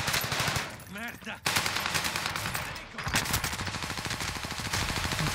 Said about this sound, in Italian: Ci stanno sparando.